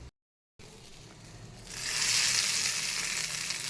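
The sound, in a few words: tempering mustard seeds, urad dal, asafoetida and red chilli in oil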